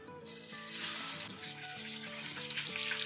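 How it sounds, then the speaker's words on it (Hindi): Chopped onions frying in hot oil in a karahi, a faint, steady sizzle with a low tonal hum running underneath. "हल्का सा फ्राई करेंगे प्याज को"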